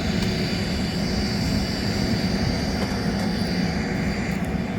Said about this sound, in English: this is the airplane.